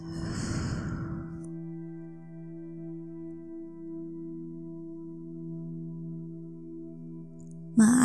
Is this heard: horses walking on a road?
no